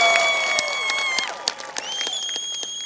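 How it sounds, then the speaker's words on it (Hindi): Crowd applause at the Isha Mahashivratri celebration, a brief burst of clapping from a large audience mixed with sustained music tones and some voices. "पहले तो जोरदार तालियां बना दीजिए"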